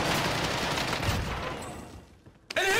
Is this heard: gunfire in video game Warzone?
yes